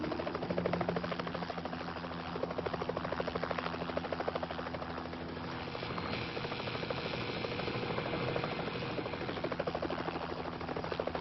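A helicopter hovers beside a high-voltage power line, a dense, steady rotor thrum and buzzing drone heard up close, with a rapid chopping pulse running throughout.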